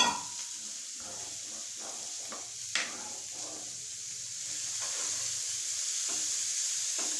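Tomato curry with coconut milk gently bubbles and hisses in a pan on the stove, a soft continuous sizzle with scattered small pops and an occasional louder spatter, and no one speaking.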